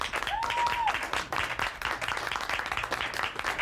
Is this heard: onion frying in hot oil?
no